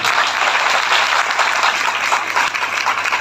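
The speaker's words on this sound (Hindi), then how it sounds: "यीशु मसीह के लिए जोरदार ताली।" A church congregation breaks into loud, sustained applause at a worship service, a thick, even roar of many hands clapping close by with no speech over it.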